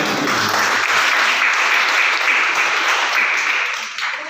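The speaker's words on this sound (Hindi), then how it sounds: "तो एक बार जोरदार ताली हो" Loud, sustained applause from a large crowd at a children's brain development seminar, steady for several seconds before tapering off slightly at the end.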